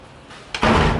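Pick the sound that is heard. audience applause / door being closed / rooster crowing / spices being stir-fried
door being closed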